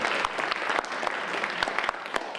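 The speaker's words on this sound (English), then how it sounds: "Give him a round of applause." An audience at a community theater production of the play Bus Stop claps steadily for about two seconds, a dense, even wash of applause with no voices on top.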